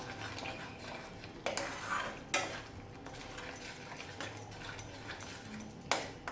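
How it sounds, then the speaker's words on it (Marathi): A metal lid clatters onto a pan of simmering Hyderabadi paneer gravy in a home kitchen, giving a few sharp clinks and knocks against a low background hiss, no talking. "आपण झाकण घालूया"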